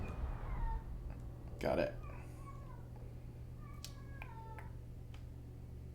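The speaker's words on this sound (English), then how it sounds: "That's my cat." A pet cat meows a few times, fairly close, alongside a voice talking over faint video game audio.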